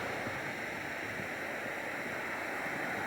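Steady, loud rushing of water churning at a water wheel without pause, a dense broadband roar filling the whole stretch with no voices.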